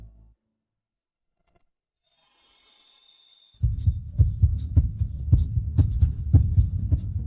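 A fast heartbeat: loud, close, deep thumping in a quick, steady rhythm that starts abruptly after a few seconds of near silence and a faint high hum, with no talking.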